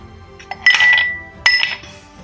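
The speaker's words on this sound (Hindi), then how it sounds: "ये हमने एक गिलास ले लिया है और इसके अंदर हम अब आइस क्यूब डालेंगे" Ice cubes drop into a drinking glass for a lemon mint drink, two bright clinks about a second apart, each ringing briefly against the glass in a quiet setting.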